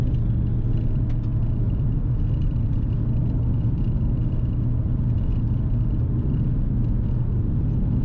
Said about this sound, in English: As you can hear, that diff is quite noisy.